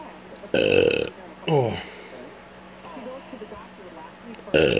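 Several loud, drawn-out burps sound close by, one at the start, another a second later and a third at the end, with quieter voiced sounds between them.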